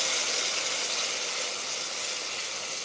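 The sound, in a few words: sizzling while cooking in hot pan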